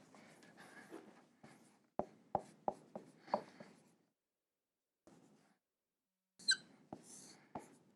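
Pen writing by hand on paper during a logic lesson, a run of close scratchy strokes and sharp taps with short pauses between bursts, quiet and alone with no talking.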